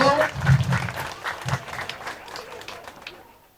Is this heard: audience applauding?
yes